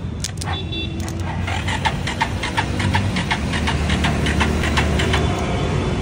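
A Bajaj Pulsar motorcycle with a weak battery and a freshly cleaned CDI unit is cranked and fired, giving a loud, rough engine chatter with regular rapid pulses over about six seconds, with some background voices.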